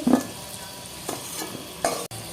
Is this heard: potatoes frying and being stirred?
yes